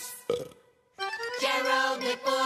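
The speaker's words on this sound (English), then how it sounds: "but watch out when he burps." Cartoon burp sound effect from the Gerald McBoing-Boing animated series, a short croak followed by a longer, loud, tonal belch rising in a resonant, warbling stretch.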